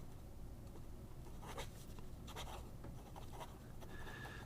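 An extra fine Lamy Safari pen writes across paper in a steady, faint scratching that runs without pause, with a few slightly brighter strokes rising out of a low background hum.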